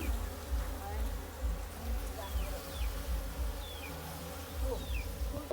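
A swarm of honeybees hums steadily nearby in a dense, continuous buzz, with a few individual bees whining past and faint voices in the background.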